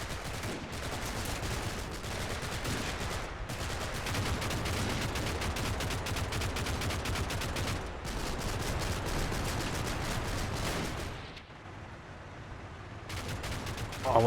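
Gunfire in the World War II video game Combat Mission: Battle for Normandy, set at the Somme: steady, rapid bursts of machine-gun and rifle fire rattle on continuously, briefly pausing before resuming loudly at the end.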